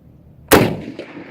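A single loud, close gunshot from a U.S. M1917 rifle, an old used .30 caliber service rifle, cracks sharply after a quiet lead-in, followed by a short decaying echo and rumble.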